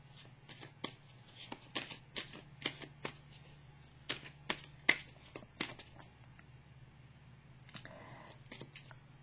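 Tarot cards are shuffled and drawn from a deck in a quiet room. Crisp riffling snaps come in quick bursts, with a brief pause before a few more flicks of the cards.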